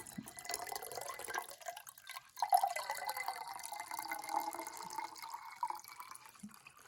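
Warm water mixed with aloe infusion is poured for feeding pepper seedlings. It makes a steady, soft trickling stream that starts after a quiet moment and runs fairly close with small drips.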